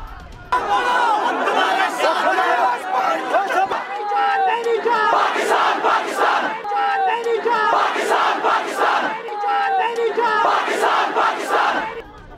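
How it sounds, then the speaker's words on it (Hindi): A crowd of hundreds at a rally chants slogans in loud, repeated waves of massed voices, the rhythmic bursts rising and falling across the whole stretch with overlapping shouting throughout. "सामने खड़ी सैकड़ों की भीड़ बीच बीच में नारेबाजी करती थी"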